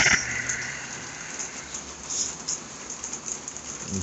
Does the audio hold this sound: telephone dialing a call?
no